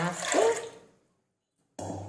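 Water pours in a short rushing stream into a pressure cooker with lentils, rising in pitch as it fills, then stops; a low hum follows after a pause.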